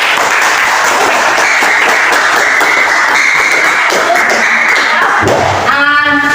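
A classroom full of students claps together, a loud, continuous burst of applause that cuts off abruptly near the end as a voice begins speaking.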